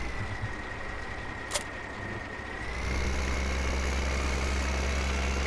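Steady low engine drone of a tractor in Farming Simulator 2015, idling evenly before rising slightly and holding a constant louder rumble, with a brief sharp click early on.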